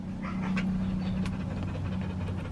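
A Rottweiler in labor makes low, steady grunting and panting sounds, a continuous breathy rumble with soft whimpers, close by and alone without talk.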